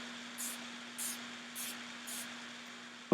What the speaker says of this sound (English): So now I'm just going to take my spray bottle